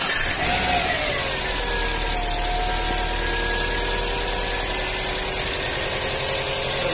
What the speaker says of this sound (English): we're going to start the vehicle now too